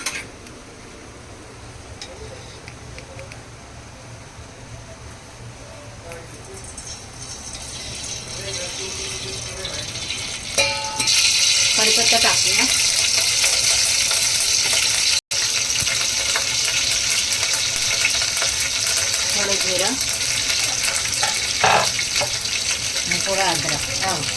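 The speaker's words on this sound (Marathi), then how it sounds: "आता फोडणी द्यायची आपल्याला" Mustard-style tempering (phodni) of spices hitting hot oil for a no-onion, no-garlic satvik Shravan thali: a loud, steady broadband sizzle that starts about halfway through and continues close up, with a voice talking over it.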